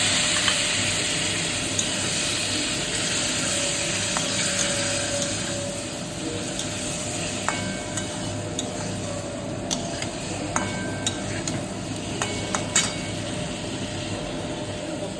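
Parboiled potatoes frying in a pan produce a steady, loud hissing sizzle. Scattered sharp pops and crackles run throughout, and no one speaks.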